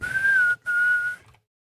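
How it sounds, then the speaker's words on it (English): A whistle blown in the Hugo's House of Horrors video game, two clear steady tones, a longer one and then a second after a brief gap, loud and alone. "Blow the whistle."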